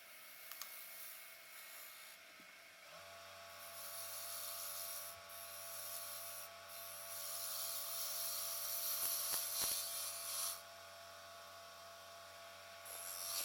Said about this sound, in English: just using a 3/8 inch spindle gouge to shape the outside and trim it down a bit towards the chuck at the tailstock end